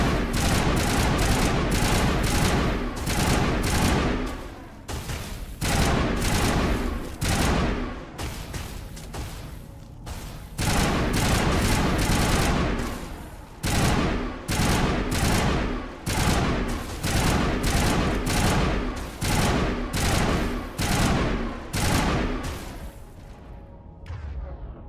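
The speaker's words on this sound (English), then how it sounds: "it makes it so much more immersive seeing the Geth actually use Geth weapons" Sustained video-game gunfire from Geth weapons in Mass Effect Legendary Edition: loud, dense bursts of rapid shots with brief gaps, near and continuous over about twenty-five seconds, with no voices.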